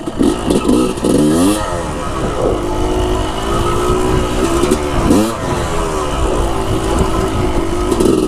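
A dirt bike engine revs loud and close, its pitch sweeping up and down in repeated surges before settling into a steadier drone.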